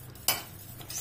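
A utensil scrapes and stirs cauliflower in a pan, a single brief clatter over a soft background hiss, close and moderately quiet.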